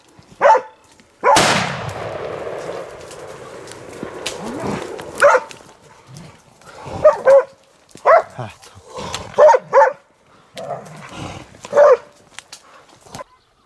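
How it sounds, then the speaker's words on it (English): Hunting dogs in a pack bark repeatedly during a wild boar hunt outdoors, with one loud burst near the start followed by a string of sharp, separate barks at moderate distance. "The pack of dogs kept searching."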